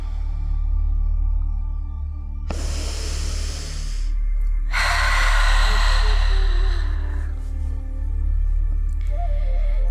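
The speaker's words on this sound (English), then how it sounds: "inhale fully. Exhale completely." Two deep breaths during a calming yoga session, each a long, full inhale followed by a slow, complete exhale, close and steady over a low background hum.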